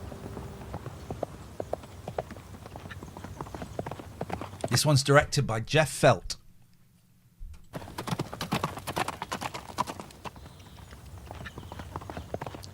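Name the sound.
horse hooves clip-clopping in TV show Eldorado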